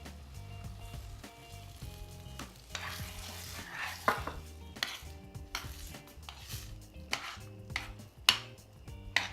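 Vegetarian bean chili cooking in a pot, quiet stirring and scraping with soft sizzling and occasional clinks of a utensil against the pot, close and gentle with no talk.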